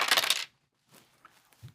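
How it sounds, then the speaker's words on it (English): A pair of dice rolled for initiative during a Battletech tabletop RPG session, a brief loud clatter at the start, then a quiet pause and a few faint rattles as they settle, no talking. "Right. 2 dice."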